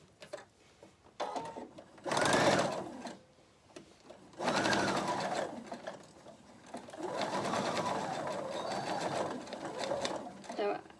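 A quilting-capable sewing machine stitches a monogram onto a mask in three bursts of fast whirring and needle chatter, close and loud, separated by short quiet pauses.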